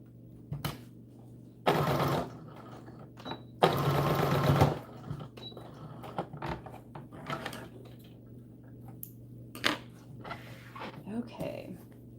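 A sewing machine stitches along the top edge of doll dress fabric in two loud, close whirring bursts. Quieter handling clicks follow, and a voice talks intermittently between the runs.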